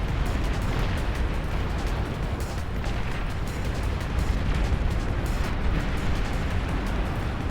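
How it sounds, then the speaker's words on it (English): Heavy explosions from a massive 100-player Beyond All Reason RTS battle rumble continuously, a dense, loud roar of blasts and artillery-like booms with no pauses. "Big explosion at the top here."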